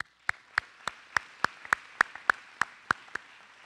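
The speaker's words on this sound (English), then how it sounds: "the graduates of 2012 should all give yourselves a round of applause" Sparse, scattered claps from a small number of people at a 2012 school graduation ceremony, about a dozen sharp separate hand claps spaced out rather than a full round of applause, fairly quiet and with no voices.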